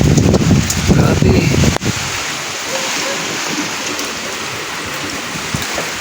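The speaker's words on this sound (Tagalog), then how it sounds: "Sumisipol ng hangin, mga kawinglet." Strong typhoon wind gusts loudly with a hollow whistling roar during a storm. It opens as a heavy, rumbling blast, then a sudden dip leaves a steady, hissing rush that carries on through the rest.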